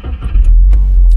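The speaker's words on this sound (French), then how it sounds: "Fait qu'on part la bagnole." A car being started, heard as a brief, close low rumble that swells suddenly and then holds steady.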